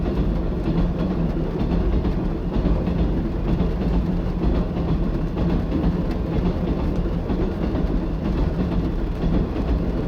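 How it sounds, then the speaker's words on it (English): A heavy steel-carrying freight train rumbles past steadily, with a continuous low roar and faint rhythmic clatter of wagons on the rails, no voices. "some viewers might like to know it's the steel train"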